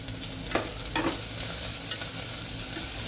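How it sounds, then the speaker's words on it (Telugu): A bay leaf fries in oil over high heat, giving a steady hiss with a few brief scraping stirs from a spoon in the pan. "ఇప్పుడు హైలో పెట్టుకున్నాను, నాకు మంచిగా ఫ్రై అవ్వాలి కదా."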